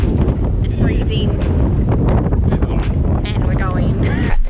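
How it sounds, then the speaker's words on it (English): Strong wind buffets the microphone with heavy low rumble at Arno Bay on the Eyre Peninsula, South Australia, while people talk over the freezing gusts. "It's windy and freezing."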